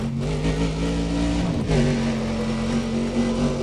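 A racing car in Need for Speed: Undercover accelerates hard around the Pine Creek and Douglas ring circuit, its engine note droning steadily, then briefly dipping at a gear change before climbing again, loud and unbroken with no voices.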